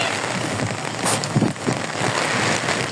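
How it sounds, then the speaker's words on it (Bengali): Heavy rain hisses densely against surfaces while strong wind roars over it, making a continuous loud wash with a few scattered sharper drops and gusts. "বৃষ্টি যে পরিমাণে আছে তা চলে, ঠিক আছে, কিন্তু এত পরিমাণে বাতাস যে অবস্থা দেখেন"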